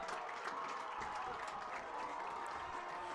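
A lacrosse crowd at Georgia vs Florida State roars after a goal, a sustained wash of cheering and applause filling the whole stretch at an even level.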